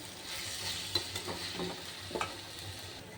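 Masala for radish curry being stirred and sautéed in a pan, a faint, close sizzle under a few sharp spoon clicks and scraping strokes.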